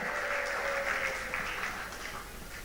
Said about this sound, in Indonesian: Hadirin, berikan tepuk tangan sekali lagi untuk talenta muda kebanggaan sekolah kita.